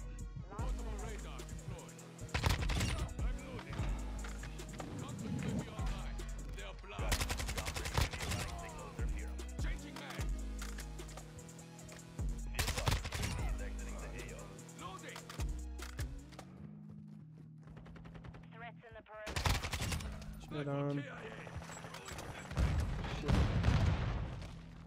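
Repeated bursts of gunfire in the video game Modern Warfare 2, including an AK-74U and a shotgun, sharp loud volleys and automatic fire recurring throughout with a player talking over it.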